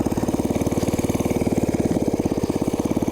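A small Briggs 5 HP engine powering a homemade chopper motorbike, its rapid steady single-cylinder putter running evenly and close, loud and alone without voices.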